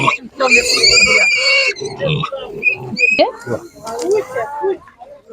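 Young piglets squeal and grunt loudly at an outdoor animal market in Otyniia, Ukraine, a busy overlapping chorus of shrill squeals and grunts, with people talking nearby.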